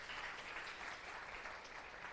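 Applause from a university calculus class fills the room, a steady wash of hand claps from many students that holds at an even level throughout.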